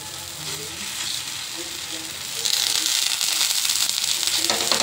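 Cucumber paratha batter sizzles steadily in oil on a pan, a dense, close frying hiss that grows noticeably louder partway through and continues without talk.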